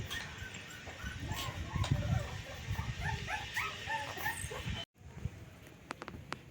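A dog whimpers and yips in a high, broken series of short cries at close range over a busy background hum at a home, then cuts off abruptly, leaving quieter sounds with a few faint clicks.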